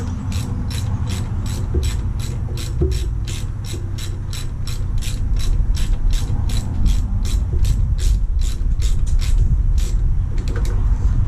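Rapid, steady clicking of a socket ratchet tightening a bolt on an EGR delete plate fitted to a Ford EFI 5.0 302 engine in a 1959 Ranch Wagon, close and continuous over a low background rumble.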